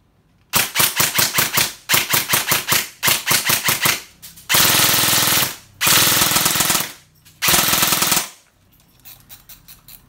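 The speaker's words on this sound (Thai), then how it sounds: "เวลายิงปืนแรงก็ขออนุญาตเป็นชุดนะครับ" Rapid bursts from an upgraded E&C 316 electric airsoft gun, short rattling volleys repeated several times, then two longer sustained bursts, loud and close with brief pauses between.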